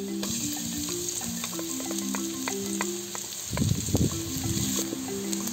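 Ginger and then garlic sauté in annatto oil in a pan, a steady close sizzle and crackle throughout that swells louder for a moment near the end as fresh pieces hit the oil.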